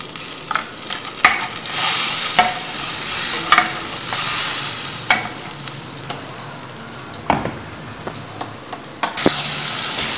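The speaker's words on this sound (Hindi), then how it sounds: "मसाले को हम ढक करके तेल अलग होने तक पकाएंगे 5 मिनट।" Masala for spicy bhindi cooking in oil in a pan: a steady close sizzle and hiss broken by scattered clinks and scrapes from stirring, with no one talking.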